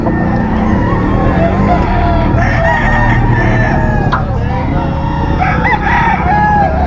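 A Sweater breed gamefowl rooster crows loudly and close at a gamefarm seller's stand in Bocaue, its drawn-out calls rising over a busy background of other birds and traffic, with a voice talking underneath.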